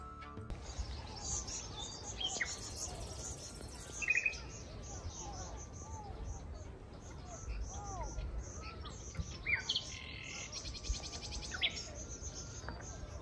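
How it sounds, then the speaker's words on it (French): A common nightingale sings outdoors in southern France, its varied whistles and trills coming in scattered phrases at moderate distance over a steady bed of chirping crickets and quiet background ambience. "c'est le rossignol Philomène."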